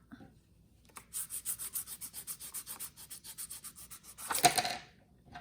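A crayon rubbed back and forth over paper laid on a shoe sole with loops and lines, a steady run of about twenty quick, close scratchy strokes that grows rougher and louder near the end.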